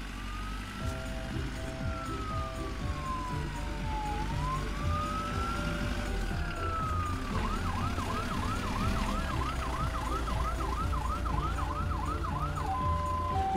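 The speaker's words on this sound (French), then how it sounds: "Voici une ambulance." An ambulance siren from a children's cartoon plays continuously, first in slow rising and falling sweeps, then switching to a rapid warbling wail, loud and close over a rumbling vehicle backdrop.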